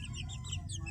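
Gamefowl fighting chickens on a farm give a brief burst of soft clucking and calls in hot weather, heard close over a low background hum.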